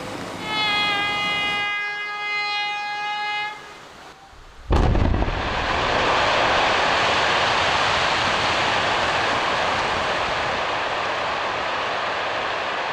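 A controlled blast brings down a hillside rock mass above a road near Saint-Étienne: a sharp detonation crack followed by a long, loud roaring rumble of falling rock, preceded by a high whistling warning tone.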